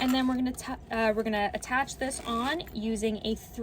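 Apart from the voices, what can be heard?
No everyday noise stands out behind the speech.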